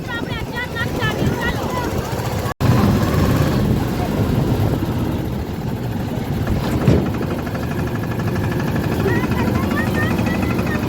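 A tractor engine drones steadily while riding along, a loud continuous mechanical rumble running the whole time with a brief break partway through.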